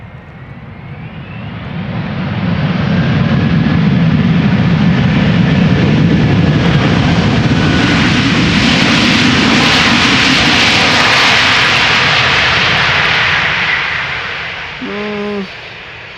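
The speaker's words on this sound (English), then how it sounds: "Delta Airlines Flight 162 is this, arriving from Minneapolis, Minnesota, Airbus A330-300 with the potential to get loud" A Delta Airlines Airbus A330-300 jet arriving at Amsterdam Schiphol Airport roars overhead, the engine noise swelling over a couple of seconds into a loud sustained rush that holds steady, then fades, with a brief faint tonal sound near the end.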